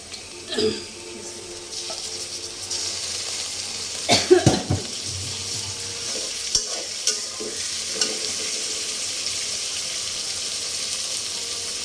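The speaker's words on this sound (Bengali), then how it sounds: "আমি এখন পেঁয়াজের সাথে চিকেনটা দিয়ে দেবো।" Chicken tossed into a pan with onions, frying with a low continuous sizzle, with occasional clattering stirs and scrapes from a utensil, close by.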